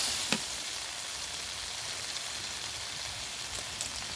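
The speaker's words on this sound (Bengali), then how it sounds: "নেওয়ার পরে মশলাটা ভালো করে কষিয়ে নেব।" Spice masala sautés in a pan while being stirred, giving a steady, hissing sizzle with a couple of brief scraping touches, fairly close and unbroken by speech.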